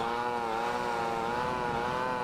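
Supra motorcycle engine in the video game GTA Vice City Stories, a steady buzzing drone held close and loud for the whole stretch with a slight waver in pitch, no talking.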